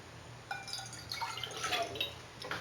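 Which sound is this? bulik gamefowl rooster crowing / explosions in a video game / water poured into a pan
water poured into a pan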